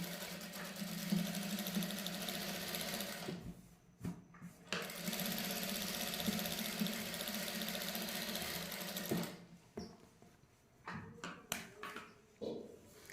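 Sewing machine running tacking stitches to attach net lace onto a sleeve: two long steady whirring runs, close and fairly quiet, separated by a short pause and followed by scattered clicks and handling noises.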